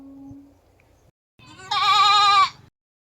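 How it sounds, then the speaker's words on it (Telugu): Small goats bleating, a couple of loud, wavering bleats close by after a short quiet stretch, heard alone without talk. "చూసేదానికి భలే ఉన్నాయి చిన్నగా ఉన్నాయి ఇవి మేకలు"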